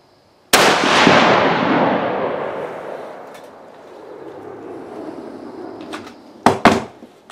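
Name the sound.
first shot fired from an unfired Savage No4Mk1 rifle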